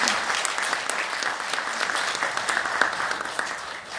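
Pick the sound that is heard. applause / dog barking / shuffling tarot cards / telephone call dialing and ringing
applause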